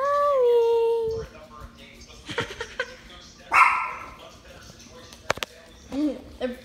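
A dog gives a few short, sharp barks and yips during a game of hide and seek indoors, scattered between a person's speech and other household sounds, fairly close by.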